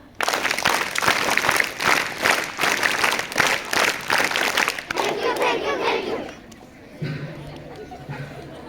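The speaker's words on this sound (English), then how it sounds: "Thank you, claps, go!" Audience at a school Children's Day celebration clapping and cheering, with rhythmic, fairly loud group claps and shouts that die down, followed by a voice speaking and softer room noise.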